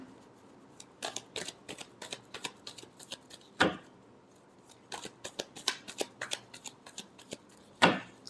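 Tarot cards shuffled by hand, soft riffling bursts and a few sharper slaps repeating irregularly over several seconds, close and quiet, with no speech.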